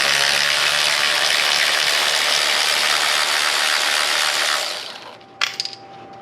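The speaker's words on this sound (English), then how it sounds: "using a 10mm, we're going to need to remove only the bolts that are holding this bracket on" Rapid metallic ratcheting from a 10mm ratchet turning bracket bolts on a 2002 Chevy Corvette engine, close and steady for several seconds, then stopping, followed by a couple of sharp tool clinks.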